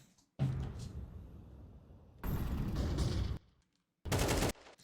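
Three separate bursts of rapid gunfire in Counter-Strike 2, loud and close, each lasting about a second, with near silence between them.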